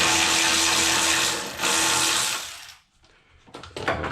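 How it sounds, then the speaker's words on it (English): An electric ratchet spins a fender bolt loose on a car during a hood damper install. It makes a loud, steady whirring buzz that stops abruptly, followed by a few light metallic clicks and handling sounds, heard up close. "I'm going to go ahead and use an electric ratchet to speed the process up"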